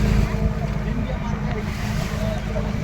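A large ship moving along a river makes a heavy, continuous low rumble with rushing water and wind noise, loud and steady throughout.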